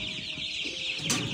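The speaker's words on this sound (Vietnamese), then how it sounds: "Đây mấy em gà thì hôm qua mình mới đi bắt về" Small one-month-old chickens, newly brought home, cluck and peep softly and close by against a steady background hiss.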